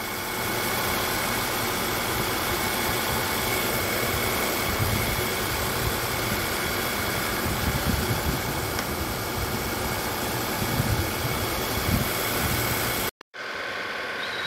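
A 2014 Volkswagen Tiguan 2.0 TSI engine runs at a steady idle during cooling system service, a constant mid-level hum close by that cuts off briefly near the end, with no talking.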